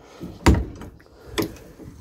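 An old door on an abandoned train carriage being moved: a heavy thud followed by a scraping creak, then a second knock about a second later, nearby and fairly loud against outdoor background noise.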